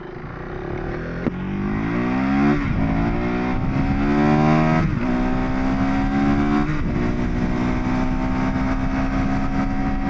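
A KTM 390 Adventure R single-cylinder engine accelerating hard up a twisty road, revs climbing repeatedly through several gear changes with brief dips between pulls, loud and close with wind noise underneath.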